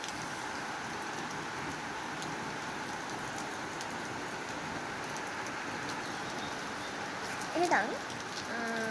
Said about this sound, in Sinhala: මෙච්චර වෙලා පායලා තිබුණා එකපාර වහින්න ගත්තා